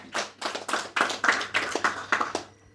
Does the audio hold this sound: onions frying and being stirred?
no